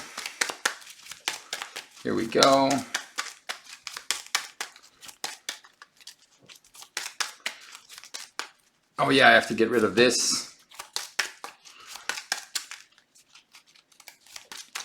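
Two bursts of rapid, crackly riffling from a deck of cards being shuffled, each lasting about a second, separated by stretches of close conversational talk with scattered small clicks.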